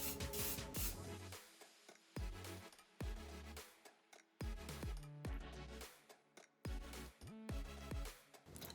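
Tresemme Micro Mist hairspray released in a string of short, sharp bursts, each a bright hissing puff with brief gaps between, close up and fairly loud, finishing curled hair.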